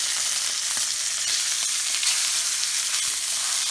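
Steak fat caps searing in a hot skillet give a steady, close sizzle of frying fat, broadband and even throughout with faint crackles and no voices.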